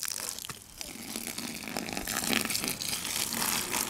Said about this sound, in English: I'm gonna take this cup of water.